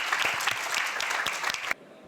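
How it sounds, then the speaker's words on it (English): Audience applause closing a summit panel session on wood construction and forest potential, a steady room-filling clapping that stops suddenly, leaving quiet room tone. "Please have a round of applause for yourself and for the panelists."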